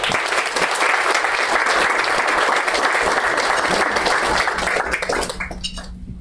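Audience at a leadership summit launch applauding as Dr. Nichols is welcomed on stage, a loud, dense wash of many people clapping that holds steady, then tapers off in the final second.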